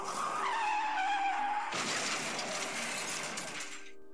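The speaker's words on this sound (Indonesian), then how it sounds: "terdengar sebuah suara ban mobil yang berdecit keras" Car tires screech loudly in a long skid, then a burst of shattering and crashing noise follows for a couple of seconds before fading.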